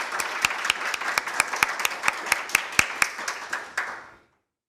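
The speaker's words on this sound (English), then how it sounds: "And I would like to start with a big applause to Mr. Reiffenstuel." Audience applause at a Korea-Germany digital health technology cooperation forum, a small crowd clapping in a steady, fairly close patter with distinct loud claps standing out, fading and stopping abruptly just past four seconds.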